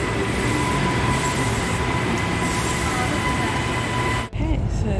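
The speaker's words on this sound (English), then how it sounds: "this is the Gold Coast train and I'm about to get on" A Queensland Gold Coast train rumbles steadily in a dense, continuous roar with a faint high whine and a brief dip near the end, loud and close as a voice talks over it.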